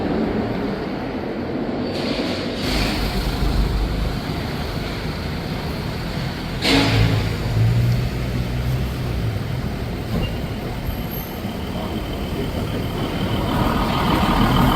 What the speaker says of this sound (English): It's a diplomatic car.